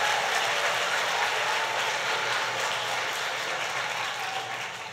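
Audience applause for the lieutenant governor at a government announcement event, a dense sustained crowd clapping of many hands at moderate distance, steady throughout and tapering slightly at the end.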